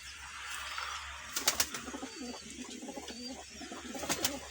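Pigeons cooing in a series of soft, repeated calls, with a couple of sharper wing or movement sounds early on, over a steady low hum in the background.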